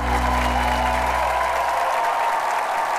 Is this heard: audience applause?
yes